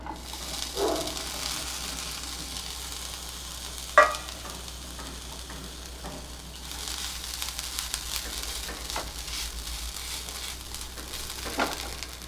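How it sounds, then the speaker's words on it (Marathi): Fresh grated coconut roasts in a pan, a steady close sizzle with occasional stirring scrapes and small pops, no talking. "आता याच्यातच हा जो ओला नारळ आहे तो पण मी भाजून घेते थोडा"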